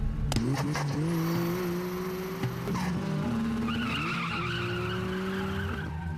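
Racing cars from the Initial D film, including a GTR and an AE86, speed past with rising engine notes, repeated tire squeals and skids, and a sharp whistle-like whine, all loud and close.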